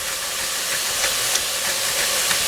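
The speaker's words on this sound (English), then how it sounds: "This grinder is a little slow when it comes to making black pepper" A pepper grinder cracking black pepper: a steady, close, gritty hiss of grinding that runs unbroken with faint crunchy ticks and no voices.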